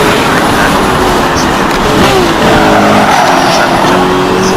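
A Ferrari F40 in Need for Speed Rivals roars loudly and continuously, the engine note rising and shifting with squealing tires and turbo whistles.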